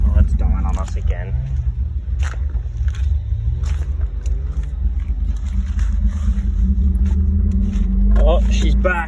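Nissan Skyline R31 with no exhaust tip idling roughly, its low engine rumble wavering and dipping as if about to stall, steady and close, with people talking over it throughout.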